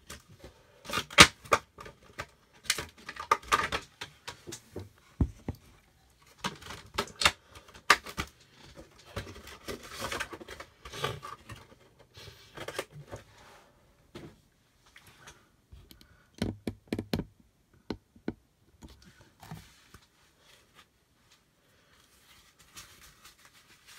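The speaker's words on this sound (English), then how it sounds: "Now let's release Lolbit from the packaging." Funko Pop Lolbit figure from the Five Nights at Freddy's Sister Location line being freed from its box packaging: irregular close crinkling, rustling and plastic clicks in bursts, with brief pauses, no talking.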